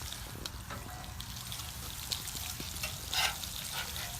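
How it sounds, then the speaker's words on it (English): Bacon frying in a pan, a steady close sizzle and crackle with a few louder spits and one brief burst of stirring or scraping. "turn over that bacon."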